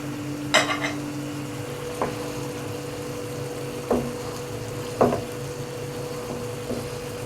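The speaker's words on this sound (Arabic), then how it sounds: "يلا نقلب بقى الكبده مع قرن الفلفل كده والثوم" Liver fries with hot green chili peppers, harissa and garlic under a constant low sizzle, while a spoon scrapes and knocks against the pan several times at uneven intervals.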